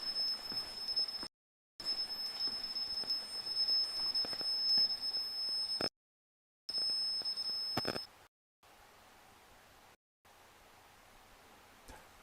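An alarm sounds in an abandoned building that once held patient rooms: a steady, piercing electronic tone runs continuously, with brief cuts, then stops about two-thirds through, leaving quiet room noise.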